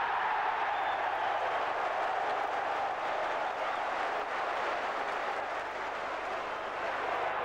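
A large football crowd at a Nottingham Forest match roars and cheers continuously, a dense, steady wash of noise from a packed stadium, heard from a distance with no clear voices.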